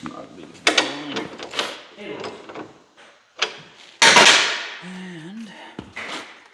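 Bolts being snugged down on a radar sled suspension: close clunks, ratcheting and metallic thumps, with short squeaky scrapes and a loud rattling burst partway through.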